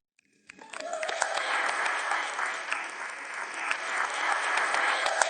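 An audience applauds inside a prison, a dense burst of clapping that starts abruptly and holds steady and loud throughout, with no voices over it.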